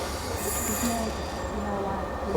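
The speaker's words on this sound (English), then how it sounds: "The train arriving on platform 1." A train arriving at a station platform in Norwich rumbles and squeals along the track nearby, with a steady low roar and high metallic wheel screech.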